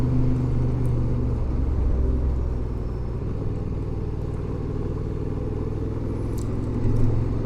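A Honda Transalp motorcycle engine drones and rumbles steadily while engine braking on a gravel road, with a continuous low throb, tire crunch and wind noise and no voices.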